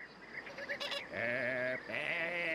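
Goats on a farm bleat nearby, two long wavering bleats in close succession, loud and clear over a quiet background.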